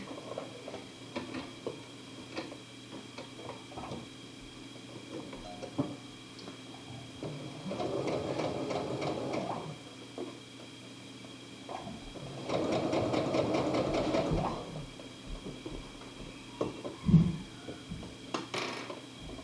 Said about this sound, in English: So I'm just going to baste it in place first, and then I can go back over it with the serger.